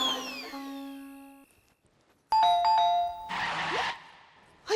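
A household doorbell chimes twice in separate bursts, each a bright ringing ding-dong, with a brief rushing noise after the second ring.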